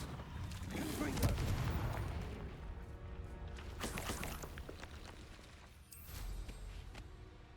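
Blasting spell cast in Hogwarts Legacy, a loud explosive burst followed by rumbling booms and crackling impacts amid continuous game noise, with a voice speaking over it.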